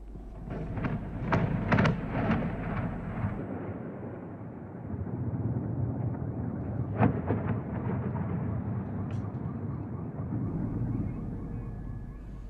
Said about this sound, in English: Eyewitnesses captured the explosion as a loud blast rocked the sky, sending debris flying.